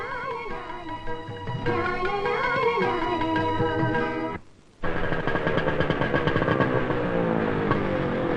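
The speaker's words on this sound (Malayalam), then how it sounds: "ഞാൻ ഈ ബൈക്ക് കൊണ്ട് വെച്ചിട്ട് വരാം" A motorcycle engine running and revving close by in a 1992 Malayalam comedy film scene, a loud steady drone that cuts out briefly, then returns with rapid sputtering pulses.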